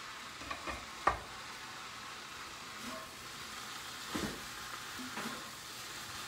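Cashew chicken sizzles and hisses in a wok, a soft steady fry with a few sharp stirring clanks scattered through, fairly quiet and close, with no talking.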